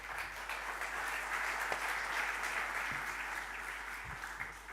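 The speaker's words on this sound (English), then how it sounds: "Please give them a warm round of applause." Conference audience applauding to welcome speakers onto the stage, a dense, even wash of many hands clapping at moderate distance, steady throughout with a low hum beneath.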